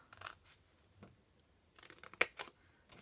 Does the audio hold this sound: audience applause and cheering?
no